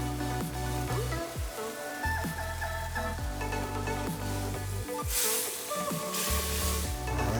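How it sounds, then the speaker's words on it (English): Pad thai noodles dropped into a hot pan of sauce and vegetables, giving a steady sizzle and frying hiss with stirring and clattering throughout, no talking. "I'm just gonna add the noodles right to the sauce and the vegetables."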